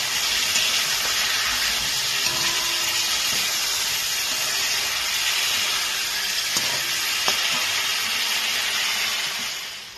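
Potatoes frying in a pan, giving a continuous, even hiss that stays level the whole time, with a couple of faint clicks. Nobody talks over it.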